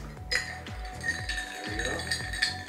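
A spoon stirs a gin and ginger ale highball in a glass, giving repeated close, bright clinks against the glass in an uneven rhythm over soft background noise.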